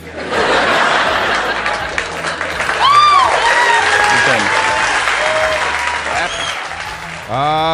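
Loud applause with cheering and laughter from a crowd of Democrats, dense clapping over scattered voices and whoops, dipping briefly near the end before a burst of sound.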